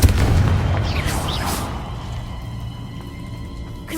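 A Confringo fire spell blast in Hogwarts Legacy opens with a loud, close boom that then fades into a rumbling, crackling tail and settles to a low steady drone.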